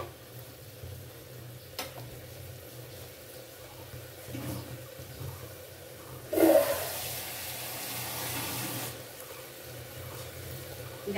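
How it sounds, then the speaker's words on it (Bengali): Water splashes into a pan of cooking ridge gourd sabzi in a short, bright gush lasting a few seconds, set against quiet kitchen background noise. "আমি এবারে এতে পরিমাণ মতো জল অ্যাড করে দিলাম"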